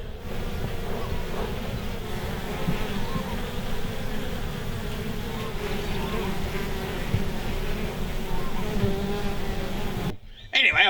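Honey bees buzz continuously in a dense, steady drone around the hives outdoors, close and sustained, cutting off abruptly near the end.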